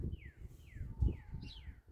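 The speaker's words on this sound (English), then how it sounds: "my little red-headed finches have come back to see us." Four quick, thin chirps from small red-headed finches, each sliding downward in pitch, over a low outdoor rumble.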